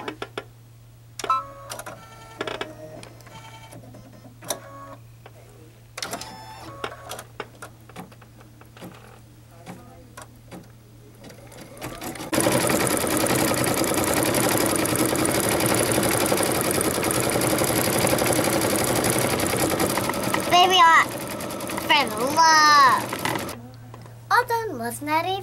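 A Babylock Destiny embroidery machine starts with scattered clicks and beeps, then stitches in a loud, steady mechanical whir for about ten seconds before stopping; a voice and brief chatter come through around it.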